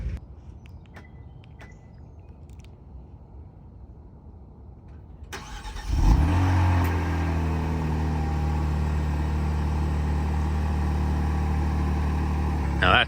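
A 2023 Kia Stinger Tribute Edition cold-starts after several seconds of quiet, its engine catching with a loud rising flare and then settling into a steady, high, close idle that holds to the end.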